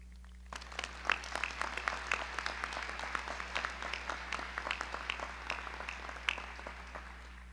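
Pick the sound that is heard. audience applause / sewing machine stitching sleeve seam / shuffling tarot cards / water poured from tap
audience applause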